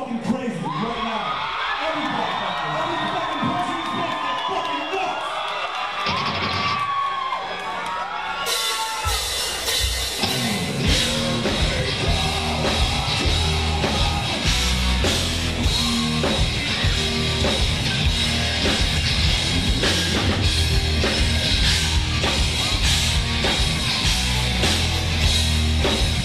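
A rock concert crowd at a live show whoops, yells and cheers, building from scattered shouts to a loud, sustained roar that fills the space.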